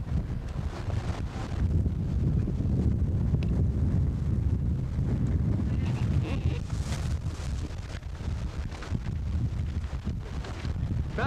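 Strong wind buffets the microphone outdoors during the 1986 Bradford Marathon, a steady low roaring rumble lasting the whole stretch, with faint background sounds beneath it.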